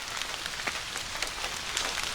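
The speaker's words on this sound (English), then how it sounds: "this rain's gonna bring a lot of the leaves down" Steady autumn rain falls on a campsite at French Creek State Park, Pennsylvania, a dense close patter on surfaces with scattered louder drops.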